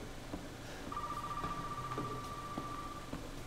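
A telephone rings in the video game Resident Evil VII, a faint steady electronic tone lasting about two seconds over quiet, clicking background noise.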